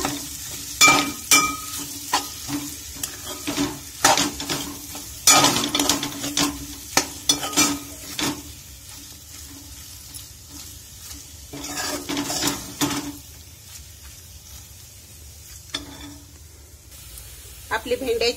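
Okra coated in chickpea flour is stirred in a hot pan, with repeated scraping and clattering strokes over a soft sizzle, busy at first and easing into quieter stretches.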